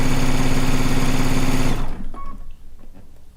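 A sewing machine runs steadily and loudly as fabric strips for a stone log cabin quilt feed through evenly, then stops abruptly, leaving faint handling clicks and rustles.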